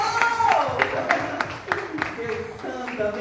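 A church congregation claps in praise, a burst of sharp, fairly close applause with some uneven rhythm, mixed with voices and crowd murmur.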